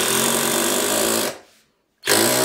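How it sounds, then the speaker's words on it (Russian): A rotary hammer drill set to impact mode, fitted with a broken drill bit, pounds a nail with a loud rapid hammering rattle, briefly stops, then starts hammering again. "Берем перфоратор и включаем режим удара."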